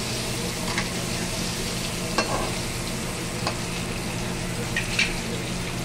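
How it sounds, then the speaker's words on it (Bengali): Eggs sizzle steadily in a hot pan as they brown, with occasional sharp spatula scrapes and taps cutting through the continuous close frying noise. "ডিমগুলো একটু ভেজে নেবো লাল করে।"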